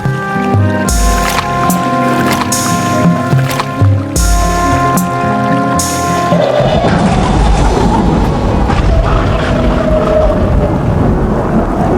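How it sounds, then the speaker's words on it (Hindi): Thunderstorm over a river with a small wooden fishing boat, dense storm noise and heavy wind-like rush building after a musical opening, loud and continuous throughout. "अचानक नदी में तेज तूफान आ जाता है।"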